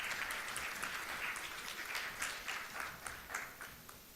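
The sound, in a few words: audience applause at a women's leadership event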